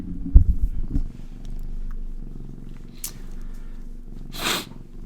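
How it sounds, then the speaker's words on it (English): A cat purrs loudly right against the microphone, a steady continuous low rumble with a faint sniff or snort near the start and another toward the end. "She is the loudest purr in my house"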